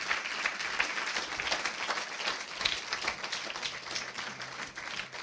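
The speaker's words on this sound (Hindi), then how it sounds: "अरे मेरे प्रभु के लिए ताली नहीं बजाओगे?" A church congregation claps at a Palm Sunday service, dense sustained applause from many hands in a hall, steady and fairly loud throughout.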